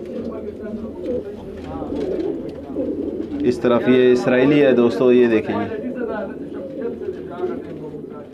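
Pigeons in a loft coo with rolling, throaty calls, loudest in a burst midway, while someone talks nearby throughout.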